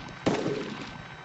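A single sharp gunshot in the DayZ Origins video game cracks out loudly, then its ringing tail fades away over a low game background with no talking.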